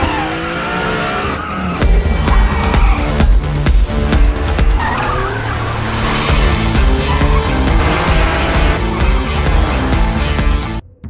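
A BMW drifts and weaves between pursuing cars, tires squealing and skidding loudly and repeatedly over a revving engine, with crashes and thumps punctuating the chase, close and intense throughout.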